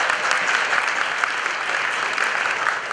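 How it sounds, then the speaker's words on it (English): Applause from the audience at a graduation ceremony, a dense, sustained burst of many hands clapping together, loud and continuous with no talking over it. "Can we give ourselves a round of applause, please?"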